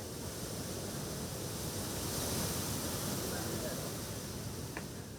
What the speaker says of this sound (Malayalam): കടൽ ഇങ്ങനെ ഇരച്ചു കയറുമ്പോൾ